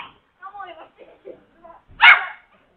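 A house dog gives a short sequence of soft whimpering yips, then a single loud sharp bark close by, in an otherwise quiet setting.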